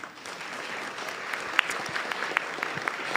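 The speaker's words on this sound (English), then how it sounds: "give these three panelists and Lisa and then yourselves a round of applause?" A live audience applauds three panelists and a host at the close of a panel on shrinking safety nets, steady dense clapping filling the room with a few sharper claps popping out.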